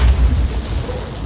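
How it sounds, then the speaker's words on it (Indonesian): In a film about North Korean soldiers crossing a minefield, a landmine is set off by a wild boar, giving a loud, deep rumbling boom that fills the brief moment with heavy low-end roar. "tiba-tiba terdengar suara ledakan."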